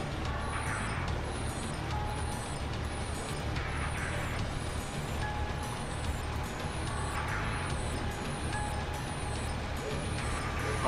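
A big tank-like vehicle in the video game Game Globe drives along with a steady, heavy engine drone, while periodic hissing bursts repeat every couple of seconds over the continuous rumble.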